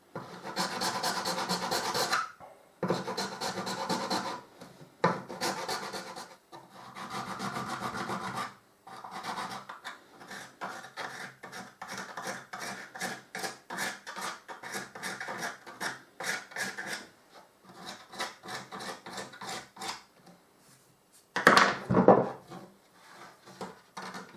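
Hand file rasping wood while shaping an alto F fipple flute, repeated scraping strokes in uneven bursts, some long and steady, others short and quick, with a brief louder knock near the end.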